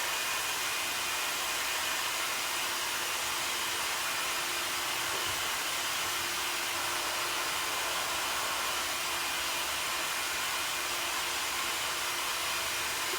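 A hair dryer blowing steadily on a surface gives a constant, even rushing whoosh with a faint motor whine, close and unbroken for over ten seconds with no voices.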